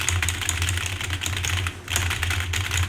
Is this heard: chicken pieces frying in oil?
no